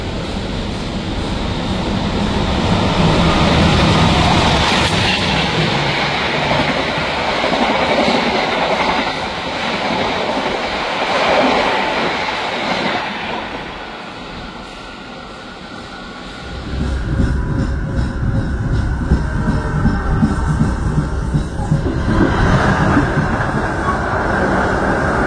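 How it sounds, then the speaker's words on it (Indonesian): The Blambangan Express passenger train passes on an Indonesian railway line, a loud rumble building and fading with rhythmic clickety-clack of wheels over rail joints and a brief faint squeal. "sepertinya ini kereta api Belambangan Express mau lewat bentar lagi"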